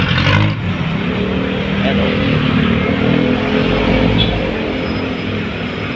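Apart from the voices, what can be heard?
car traffic on road to Payatas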